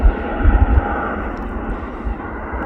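An Airbus A340 airliner takes off at Manchester Airport, heard from a viewing park as a loud, broad engine roar that swells early on and then holds steady as the jet climbs away.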